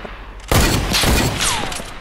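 Sniper rifle fire in a 1v1 video game match: after a quiet moment a sudden loud shot cracks out, followed by further bursts, echoing rumble and a falling whistle-like tone, close and sharp.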